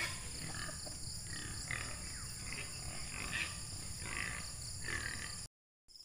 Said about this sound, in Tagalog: Kaya dito naman tayo sa pagpapakain ng ating baboy.